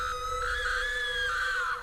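A woman screams in fear, one sustained high-pitched cry of about two seconds that wavers slightly before fading, loud and close with no talking over it.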